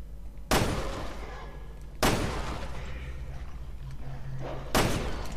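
Three heavy, booming gunshots at a pig-like creature in the video game Resident Evil Revelations 2, spaced a couple of seconds apart, each with a sharp attack and a long rumbling tail over a steady background hum.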